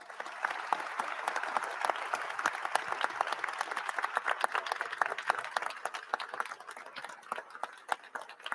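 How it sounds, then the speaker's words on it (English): A large audience breaks into sustained applause at a formal event with the Artemis II crew, dense crowd clapping filling the whole stretch at steady loudness. "Everyone, a round of applause."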